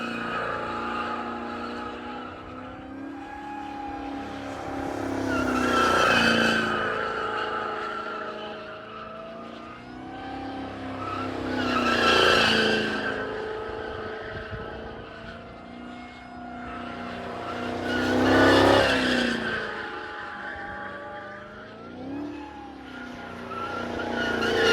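A widebody Dodge Challenger Hellcat does donuts, engine roaring and tires squealing in three rising, sweeping passes, each swelling loud then fading slightly as the car circles, heard from a distance without talk.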